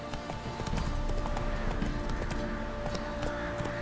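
Horse hooves clip-clopping at a steady trot in the video game The Witcher 3, an even, continuous rhythm of close hoof strikes over a low ambient game background.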